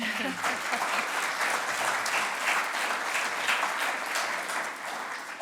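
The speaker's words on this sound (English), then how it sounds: "So we give them a round of applause." A launch event audience breaks into sustained applause, a dense, steady wash of clapping that holds evenly for several seconds before easing slightly at the end.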